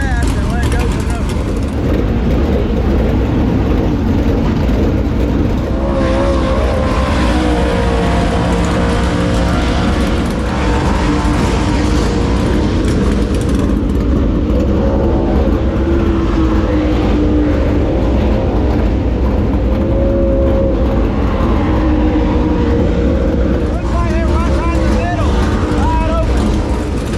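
Race cars circling the dirt track at Knoxville Raceway during a qualifying session, a steady loud engine roar rising and falling as the cars go around, with a person talking over it throughout.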